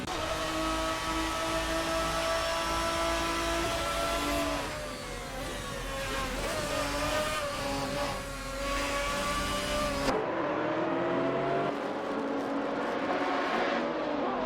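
GTR race cars from a video game lapping Interlagos, a loud sustained engine whine with rising and falling revs as cars pass, dipping midway and then cutting to a thinner, more distant drone near the end, with no talk.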